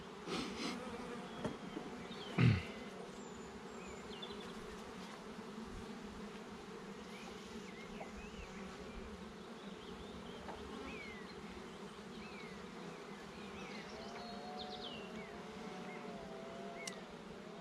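Honeybees from a nuc hive hum and buzz steadily during an inspection, with individual bees whining in close past the microphone and a couple of sharp knocks near the start.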